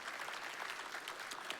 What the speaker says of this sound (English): didn't actually expect the applause for that